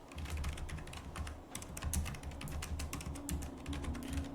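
Rapid clicking of computer keys as a search is typed, a close, fairly quiet run of uneven keystrokes with brief pauses, no voices.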